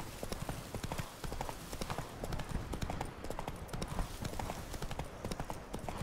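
Hooves of Roach, the horse in The Witcher 3: Blood and Wine, clip-clop in a steady rapid rhythm over a soft background, with a brief voice in the video game.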